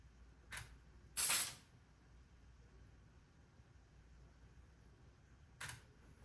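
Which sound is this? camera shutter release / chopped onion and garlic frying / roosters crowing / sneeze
camera shutter release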